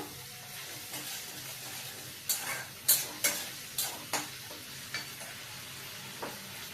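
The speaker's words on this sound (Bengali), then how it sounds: "আদা রসুন দিয়ে একটু কষে নেবো।" Ginger and garlic sautéing in a pan for a Bengali gaati kochu with prawn dish: a quiet sizzle, then a run of several sharp spoon scrapes against the pan, fairly close, with no speech.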